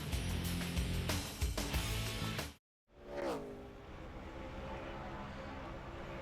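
NASCAR Sprint Cup cars roaring around Pocono Raceway during qualifying in 2010, a loud continuous engine drone that cuts out abruptly for a moment, then a single car swoops past with a falling pitch before a steady engine hum returns.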